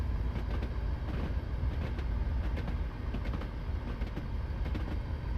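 A train in Train Simulator 2020 driving the Fife Circle Line, with a continuous low rumble and faint rhythmic clicks of the wheels running under it at an even level.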